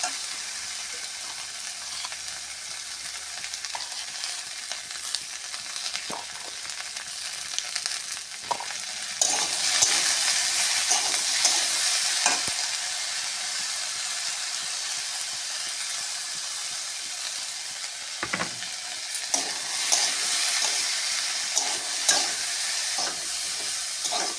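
Spinach and mixed vegetables with green chilli, turmeric and salt fry in a pan, giving a steady close sizzle and hiss, broken by occasional stirring scrapes, louder midway, without talk.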